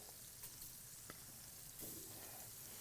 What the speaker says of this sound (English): we're going to take some plums and some peaches, and I'm going to grill them